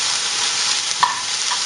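Strained shirataki miracle noodles drop into a hot pan with shrimp, giving a steady broadband sizzle with one sharp stir or scrape clack midway and a lighter knock near the end, no voices.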